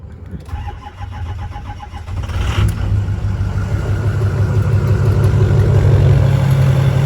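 A car engine cranks over with a key and catches, then settles into a steady, loud, close idle that holds a low, even rumble to the end.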